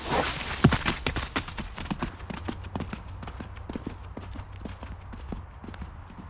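A horse, just set free, trots away with a quick, regular clip-clop of hooves, loud at first and fading steadily as it moves off, with a brief bit of talk early on.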